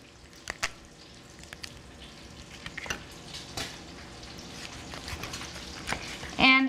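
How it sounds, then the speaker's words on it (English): Diced bacon sizzles and crackles in a frying pan, a soft steady hiss with scattered sharp pops, fairly quiet and close. "you might hear my bacon sizzling"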